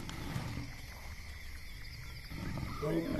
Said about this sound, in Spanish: Así que el macho vuelve a sus rugidos.